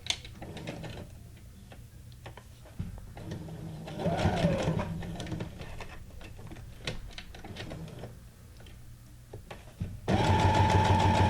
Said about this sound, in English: I'm going gonna go with the straight stitch again.